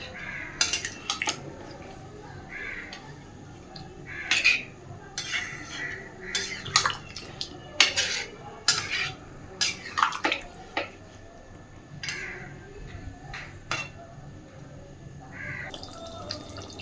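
A chicken and potato curry being mixed in a cooking pot, with sharp clinks and scrapes of a utensil against the metal, a few scattered knocks and a lid set down, over a quiet wet background.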